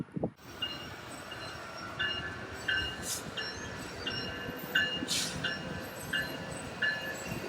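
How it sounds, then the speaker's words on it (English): A train rolls by up close, with rhythmic clacking wheels, squealing rails and periodic metallic clunks, and no talking. "Now there's a train coming"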